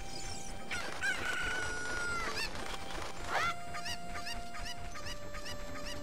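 Cuckoo chickens in Zelda Ocarina of Time, repeated clucks and a crowing call over a steady game music bed, fairly faint, with no talking.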